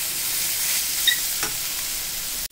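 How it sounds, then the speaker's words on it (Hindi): Baby corn and mushrooms fry over a high flame, giving a constant close sizzle with a few light stirring clicks before it stops abruptly. "ये देखिए हो गया है काफ़ी अच्छे से फ्राई"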